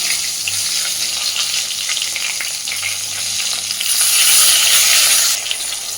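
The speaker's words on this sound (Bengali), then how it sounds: "টমেটোটা ভাজার সময় প্রথমে গ্যাসের ফ্লেমটা একদম কমে রাখবেন।" Tomatoes frying in oil over a low gas flame, a continuous close sizzle with light stirring that rises briefly louder before easing back, and no talk.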